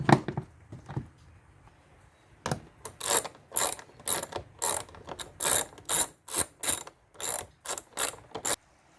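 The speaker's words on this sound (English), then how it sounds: "all you need to do is just put it down and screw these two screws" Close, crisp ratchet clicks in steady repeated strokes as 10 mm screws are driven into the air filter housing of a 2011 Toyota Camry, with a few scattered knocks before the rhythmic ratcheting begins.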